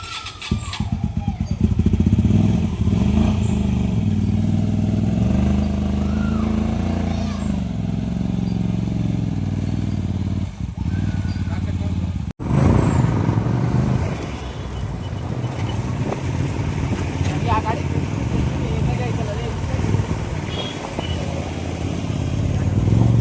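Motorcycle engine running steadily with a low drone throughout, a sharp break partway, then riding on with engine and road noise while people talk over it.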